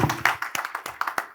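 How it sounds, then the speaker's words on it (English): A panel discussion audience gives scattered, fairly light applause for the panelists, with irregular overlapping claps close by and no talking. "let's have again a big round of applause for the wonderful panelists that we had"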